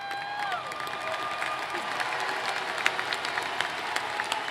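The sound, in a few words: applause and cheering at a commencement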